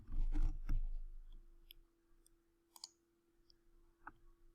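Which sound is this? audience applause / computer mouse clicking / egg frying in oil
computer mouse clicking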